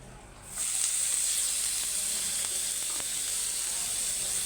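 Chopped onions hit a little hot oil in a pan with a quick onset, then settle into a steady, close, bright sizzle that holds evenly to the end, with no talking.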